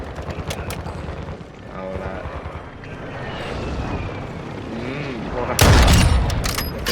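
Gunfire in Call of Duty: Modern Warfare II, repeated rapid shots and bursts throughout, ending in a loud close blast near the end, with a voice talking underneath.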